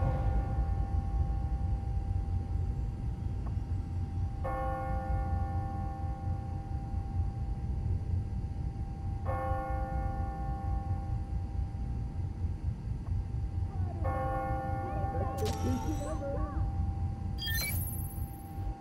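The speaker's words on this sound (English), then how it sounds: "Ringing on the hour. When I hear those bells" Church bells in the video game Spider-Man: Miles Morales toll three times on the hour at steady intervals, each strike ringing out and fading over a low rumbling background, followed by a few sharp electronic chirps.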